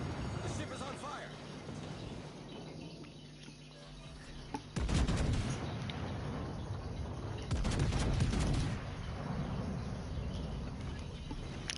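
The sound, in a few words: naval gunfire in World of Warships Legends video game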